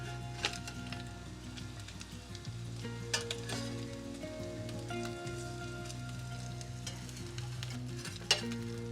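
Canned salmon patties sizzle and crackle steadily in a hot frying pan, a dense close-up frying hiss with occasional sharper pops and no talking.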